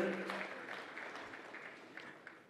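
Scattered, faint applause from a conference audience at the 11th Merck Foundation Africa Asia Luminary meeting, a steady wash of light clapping with a few sharper claps near the end.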